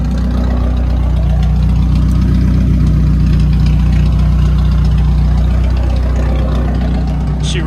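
A 1988 Volvo 240 engine idling with an unfixed exhaust, a steady, loud low drone with an even hum and no revving, running alone throughout.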